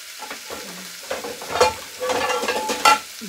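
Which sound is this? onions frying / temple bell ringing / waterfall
onions frying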